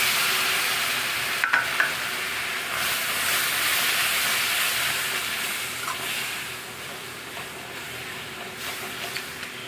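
Mango and jaggery chutney stirred in a hot pan with no oil or water, a steady soft sizzle and hiss with scraping strokes of the spoon and a few sharper clinks, no talking.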